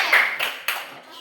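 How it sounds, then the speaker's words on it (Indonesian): Students in a classroom clap briefly for group two after an arts class performance, a few sharp, fairly faint bursts of hand claps with chatter around them. "Tepuk tangan buat kelompok 2."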